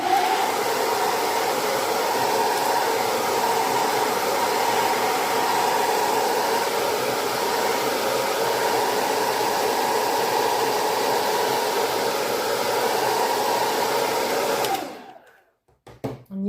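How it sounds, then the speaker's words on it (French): A hair dryer blows steadily and loud for about fifteen seconds over watercolor masking tape on paper, a constant whooshing roar that cuts off abruptly near the end. "Il faut passer un petit coup de sèche-cheveux avant."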